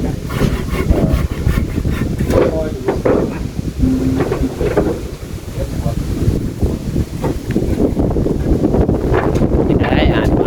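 Evening storm wind gusts hard against the microphone at a house under construction in rural Thailand, a continuous roaring buffet, with someone talking over it now and then.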